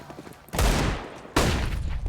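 Two loud bursts of rapid gunfire ring out close by on the Dust 2 map in Counter-Strike, each a dense fusillade that crackles and trails off.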